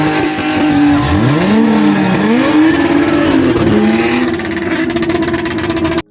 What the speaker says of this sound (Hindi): तो गाड़ी ड्रिफ्ट मार रही थी।